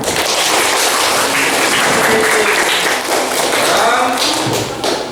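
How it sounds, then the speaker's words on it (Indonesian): Classroom students in a physics class clapping together, a loud, dense burst of many hands with sharp taps and thumps, with some voices mixed in. "Tepuk tangan dulu untuk kita semua."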